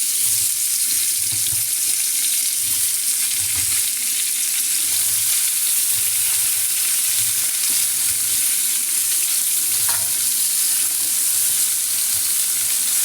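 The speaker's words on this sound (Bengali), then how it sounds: "এখন দিয়ে দেব সবজিগুলো, ফুলকপি আলু গাজরগুলো দিয়ে দেবো এক এক করে" Cauliflower, potato and carrot fry in hot oil with chillies, cooked in a village-style kitchen, giving a loud, constant sizzling hiss with soft rhythmic stirring thumps beneath it.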